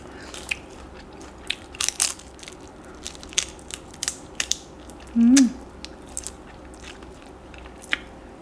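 Grilled shrimp shells being bitten and crunched up close, with sharp irregular cracks and crunches and a brief short vocal sound midway.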